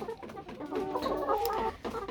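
Young egg-laying hens, 19 weeks old, in an Alibaba cage clucking close by, a run of overlapping throaty clucks and murmurs swelling in the middle before trailing off, no talk.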